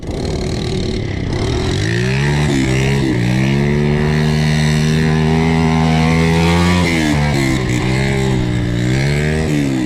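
A loud, close quad bike engine revs repeatedly, its pitch climbing and dropping in several surges over a steady buzzing drone.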